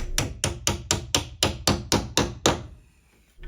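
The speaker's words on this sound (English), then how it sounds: "we're going to go ahead and use the hammer and just gently tap it in" Ten sharp metallic hammer taps at a steady rhythm driving a door hinge pin into place, close and fairly loud, followed by a brief quiet pause.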